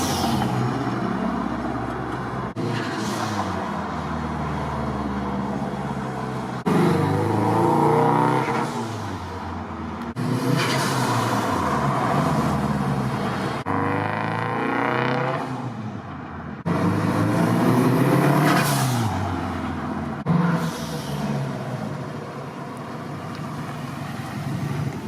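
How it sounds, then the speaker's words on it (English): Tuned Peugeot car running laps outside, its engine rising and falling through repeated passes of acceleration, with brief whooshing dump valve releases between pulls and no talking. "That dump valve is so loud as well."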